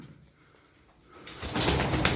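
A Gitti pigeon coos close by, the call swelling in after a quiet second and running on in soft, throaty pulses to the end.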